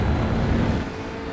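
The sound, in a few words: Audi RS3 TCR racing lap in iRacing video game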